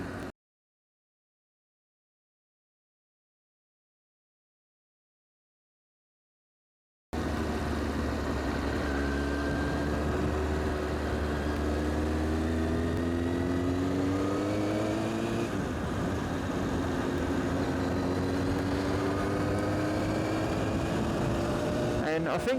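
A Kawasaki ZX6R J2 motorcycle on a dyno, fitted with a Hill-Tech quick shifter, revs loudly and continuously after several seconds of silence, its engine note rising and sweeping through repeated climbs.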